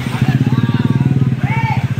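A motorcycle engine idles close by with a fast, even chugging pulse on a crowded street in Tondo, Manila, during a road-clearing operation.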